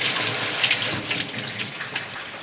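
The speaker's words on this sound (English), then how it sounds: "wash this in running water" Tap water runs in a steady, close splashing stream, with small bursts of spatter as it hits something in the sink.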